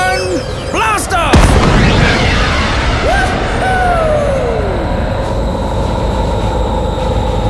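Theme park ride launch effect at a cannon-like launch pad: a loud booming blast with a roaring rush and descending whooshing tones, followed by a sustained rumbling drone that fills the rest of the clip.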